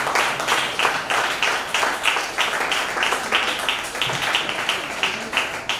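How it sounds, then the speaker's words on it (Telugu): A church congregation at a Sunday worship service claps together in a steady, fast rhythm, with many hands producing a continuous run of sharp, even beats that fill the room for several seconds. "గట్టి చప్పట్లు కొట్టి అయ్యగారిని స్వాగతిస్తున్నాను"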